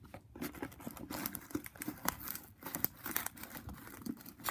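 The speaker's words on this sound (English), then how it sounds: "I'm gonna have to bring in the scissors." Close, crisp snipping and crinkling of a package being cut with scissors, irregular cuts and tearing rustles in quick succession with no voices.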